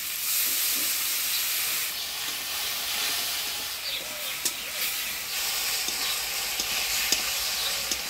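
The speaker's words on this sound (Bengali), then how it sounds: "আলুর সাথে মশলাটা ভালোভাবে কষে নিলাম।" Potatoes sautéing in a pan with ground spice paste of turmeric, salt, ginger-cumin paste and chilli paste plus a little water, a steady close sizzle with occasional scrapes and stirring clicks, no talking.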